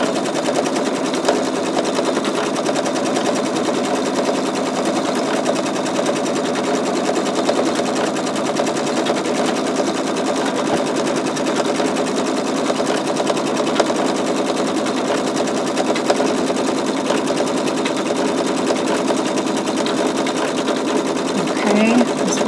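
An embroidery machine stitches a skull design, running with a steady, fast mechanical rattle throughout at close range, with no pauses.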